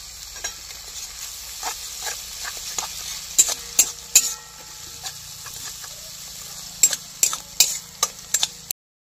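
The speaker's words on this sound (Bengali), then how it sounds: "রসুনটা আমার ভাজা হয়ে গিয়েছে।" Garlic and ginger fry gently in a pan on the stove under a soft, steady sizzle, broken by sharp spatula scrapes and taps against the metal that come in irregular clusters. No one speaks.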